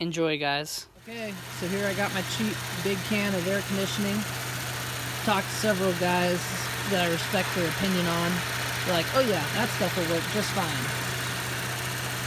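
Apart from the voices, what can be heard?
Ford Edge car engine idling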